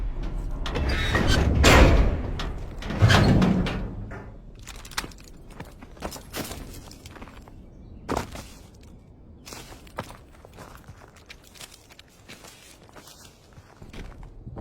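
In Call of Duty WWII's Hürtgen Forest battle, a wartime door is pushed open with heavy thumps and creaks, followed by a run of scattered footsteps and small knocks that fade quieter.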